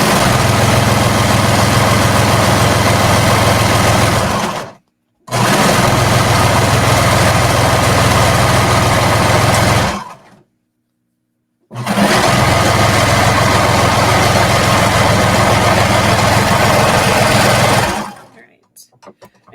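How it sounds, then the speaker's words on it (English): A sewing machine sews the neck seam of a sports bra in three long, loud bursts of steady motor whir, separated by short pauses. "now we're going to go ahead and we're going to sew the neck up together."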